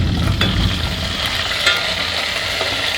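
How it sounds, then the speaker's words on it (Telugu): A tempering of mustard seeds, cumin, dried red chillies, onions and curry leaves frying in oil for ulava (horse gram) sambar, giving a loud, steady close sizzle with occasional stirring scrapes and pops. "కొంచెం వేగిన తర్వాత ఎండుమిరపకాయలు ఎర్రగడ్డలు వేసానండి తాలింపుకి."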